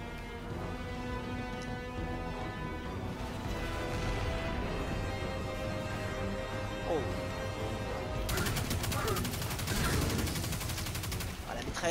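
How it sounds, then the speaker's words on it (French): An exotic submachine gun in Destiny 2 rattles off sustained rapid bursts, dense and loud, with a sharper, brighter volley in the last few seconds while a voice talks underneath. "la mitraillette là que j'ai en exotique, elle est pas mal"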